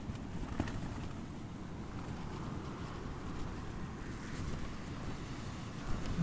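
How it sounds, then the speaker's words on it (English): Steady wind blowing across an open beach on the Holderness coast at Hornsea in the UK, a strong crosswind making a continuous low roar and rumble with slight gusts and no voices. "the wind's been an absolute nightmare"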